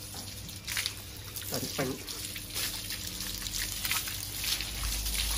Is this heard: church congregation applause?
no